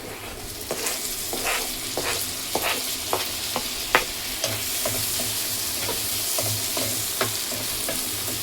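Tomatoes tossed into browned onions with green chillies and salt, frying and being stirred in a pan for pav bhaji; steady close sizzle with repeated spoon scrapes and clicks throughout, no talking.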